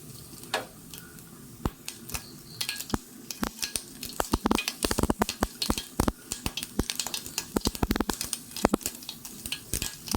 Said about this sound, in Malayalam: കടുകിട്ട് കൊടുക്കാം.